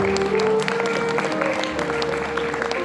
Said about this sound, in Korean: 계속해서 축하의 큰 박수 부탁드리겠습니다.